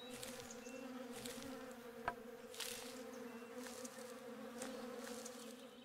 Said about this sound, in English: See any trees with bees in them?